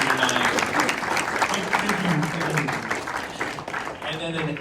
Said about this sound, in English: quick round of applause for the panel that traveled far and